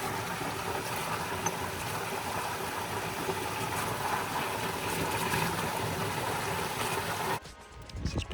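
Creek water rushing through a 2-inch line at an off-grid retreat in Phillips Arm, a steady broadband hiss and gurgle that stays even, then drops off abruptly near the end.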